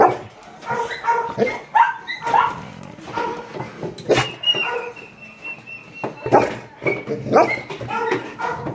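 A dog barks and yips repeatedly at close range before a grooming session, with whimpers mixed between the barks.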